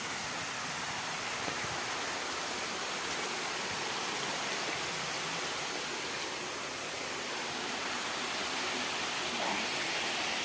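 A river waterfall gives a constant broad hiss of rushing water, steady and fairly loud with no pauses and no voices.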